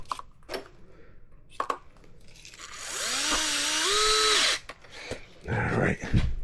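A power drill drives screws into the body mounts of a Redcat Vigilante RC car, whirring loudly for about one and a half seconds with a rising then steady pitch, framed by nearby clicks and handling noises.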